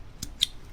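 Scissors snip a thread loop while a fly is tied, two short, crisp cuts close by, separated by a brief pause, against quiet background.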